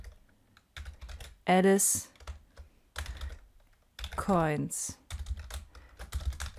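Close keystrokes from code being typed on a computer keyboard come in irregular quick bursts, with longer runs of clicking. A voice speaks in short phrases between the bursts.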